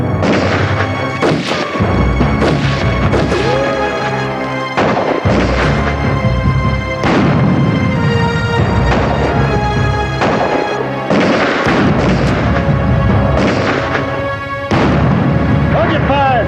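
Western shootout gunfire: loud, close revolver and rifle shots crack out one after another in uneven bursts, each ringing briefly, with dramatic music underneath.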